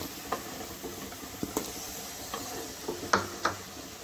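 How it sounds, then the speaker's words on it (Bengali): Potatoes frying in oil, a low steady sizzle broken by several sharp scraping stir strokes and small pops, heard alone and fairly quiet. "আলুটাকে লাল করে ভেজে নেব।"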